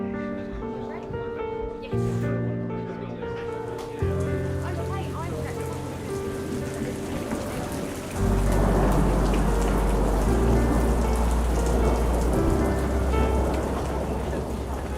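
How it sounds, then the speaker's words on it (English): Rain falling steadily on an outdoor film set, a dense hiss that grows heavier partway through and continues under a bed of tonal background sound. "there's nothing we can do about the rain"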